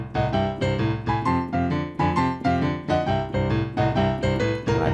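Boogie woogie piano plays a driving rhythmic bass line under repeated right-hand licks, loud and steady with no talking.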